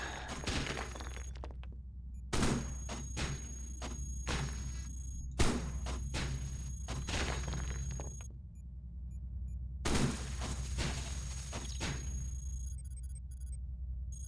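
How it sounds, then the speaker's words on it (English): Light cannons fire in the video game Cogmind, a series of sharp, crackling bursts in irregular clusters over a steady low hum, moderately loud with short gaps between volleys. "Let's try light cannons."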